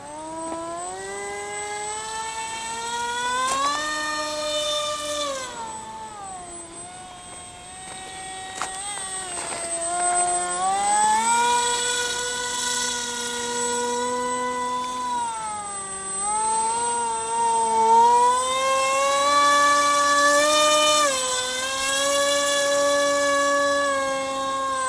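RCPowers F-18 V3 radio-controlled model jet flying with flaps down, its electric ducted fan giving a steady high whine whose pitch rises and falls with throttle through the pass, continuous and fairly close with no talk.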